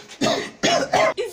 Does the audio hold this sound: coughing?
yes